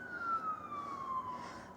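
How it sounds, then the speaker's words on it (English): A siren wails steadily in the distance, its tone sliding slowly downward, with low traffic rumble underneath. "I hear sirens"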